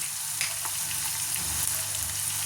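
Steady, even sizzling as something is sautéed in oil, a close continuous hiss with faint crackles and no voices.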